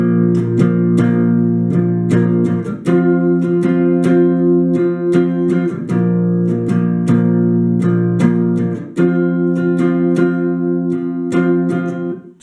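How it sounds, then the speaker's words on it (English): Rhythm guitar strumming the chorus of a song, with sustained full chords ringing loudly and steadily through a repeated strumming rhythm, no voices over it. "let's check out what the rhythm guitar is playing during the chorus, which should sound like this"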